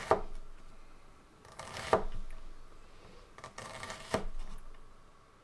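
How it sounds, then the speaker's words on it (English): An onion being sliced with a knife while making potato soup: a couple of sharp, crisp chopping strokes about two seconds apart, close and clear, with no talking. "And then start slicing it."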